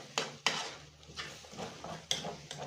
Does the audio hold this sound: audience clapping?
no